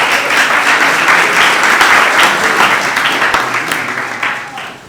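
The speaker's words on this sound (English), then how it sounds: "Give yourselves a round of applause." An audience applauds itself at a family talk show, steady, dense clapping that fills the clip and slowly tapers toward the end.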